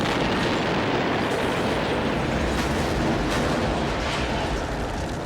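A huge, continuous roaring blast fills the whole stretch, loud and dense, rumbling on without pause like a massive explosion.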